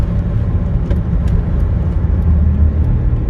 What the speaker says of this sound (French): c'est vraiment dès qu'on dépasse les 3000 qu'elle s'élance, la voiture